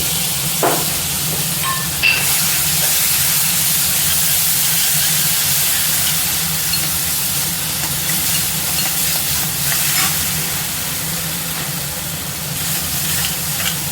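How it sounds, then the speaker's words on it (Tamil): Fresh coriander leaves sauté lightly in a pan with a broad, even hiss and sizzle, steady throughout with a couple of brief clicks early on, close and without talk. "கொத்தமல்லி சேர்த்து ரொம்ப நேரம் வதக்காமல் லைட்டாக வதக்கி விட்டு நம்ம எடுத்துக்கலாம்"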